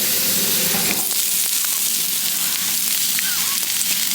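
Potatoes with peppers and onions for breakfast tacos fry in a hot pan, giving a loud, constant sizzle with crackling and light stirring. A voice can be heard faintly underneath.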